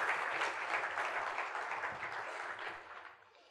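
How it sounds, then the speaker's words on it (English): A short round of audience applause for cricketer Mithali Raj during an interview event, full at first and gradually fading away. "I think she deserves that huge round of applause."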